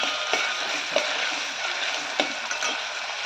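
Onions and green chillies sautéing in a pan give a steady, close sizzle with occasional soft ticks and pops from stirring, no voices over it.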